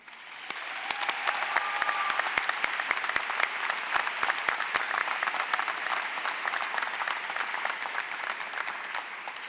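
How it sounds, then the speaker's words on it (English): A large graduation crowd at Fort Collins High School gives a long round of applause for family and mentors, a steady wash of many hands clapping that swells and holds for nearly ten seconds, with scattered sharp individual claps. "We would now like to take a moment to give a round of applause to those who helped guide you on your journey."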